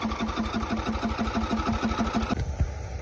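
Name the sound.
Murray lawnmower engine starting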